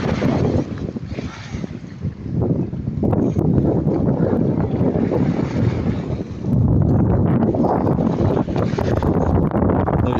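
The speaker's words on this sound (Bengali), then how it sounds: "বাতাস।" Strong wind blows steadily across an open seaside park where ships dock, a loud continuous rush and buffeting against the microphone with a gust rising near the end.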